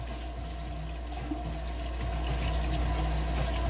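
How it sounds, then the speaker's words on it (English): Tap water runs steadily over hands being rinsed under a faucet in a home kitchen, a continuous close splashing rush that grows slightly louder toward the end, with no talking. "Let me rinse my hands off real quick."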